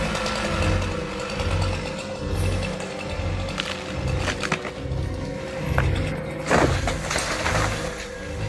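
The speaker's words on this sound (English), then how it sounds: "Watch as the Varna 372 chainsaw and expert" A Varna 372 chainsaw roars in pulsing waves as it cuts into a tree, with occasional cracks and thumps over the engine drone.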